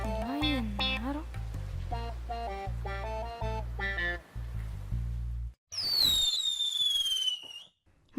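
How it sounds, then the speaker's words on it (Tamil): Diwali firecrackers crackle and pop outdoors alongside bright whistling, tonal effects, with a sharp burst and rising screech near the end; sounds are fairly loud and no one speaks. "நான் போய் பட்டாசு வெடிச்சிட்டு வந்துடுறேன்."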